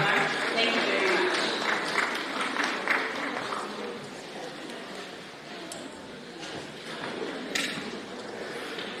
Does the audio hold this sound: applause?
yes